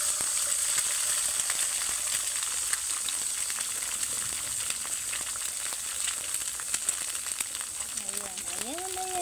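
Sunny side up egg frying in butter in a pan, giving a constant dense hiss and crackle close by, with a brief tonal squeak near the end.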